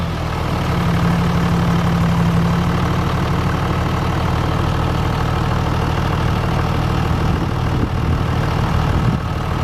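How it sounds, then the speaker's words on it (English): A Toyota Land Cruiser HDJ81V with the 1HDT 4.2L turbo diesel engine starts and settles into a steady, close, loud idle with a low droning rumble. "go ahead and crank up the engine, and we'll show you how it sounds and how it starts"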